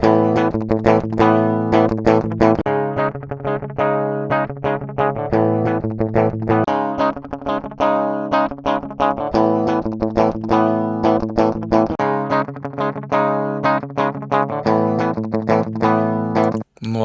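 An electric guitar played through a direct DI signal to compare pickup sets. It plays a run of distinct, picked notes and chords, each with a clear attack and a short sustain, loud and close, with no voices.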